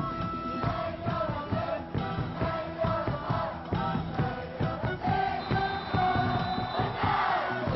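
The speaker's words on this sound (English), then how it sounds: "Cheering itself is a sport of its own in Korea." Packed Korean baseball stadium crowd cheering and chanting in unison, a dense, loud roar that runs without a break and carries rhythmic shouted chants.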